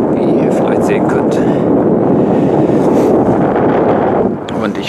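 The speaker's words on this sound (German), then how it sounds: "Der Wind ist recht eisig, muss ich feststellen." Icy wind blowing at Alfsee lake, a loud, constant roar buffeting the microphone, dipping slightly near the end.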